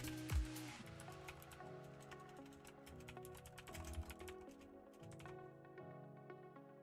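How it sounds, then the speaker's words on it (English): Typing on a computer keyboard, with quick irregular clicks of keys pressed close by, running throughout under a faint steady background hum, no talking. "I'm typing"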